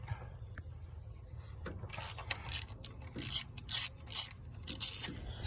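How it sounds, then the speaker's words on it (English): A ratchet removes fuel rail bolts on a 1993–97 LT1 Firebird engine, giving short, rapid clicking bursts in quick succession against a quiet background, close by. "you're going to want to take these 4 bolts off of the fuel rail"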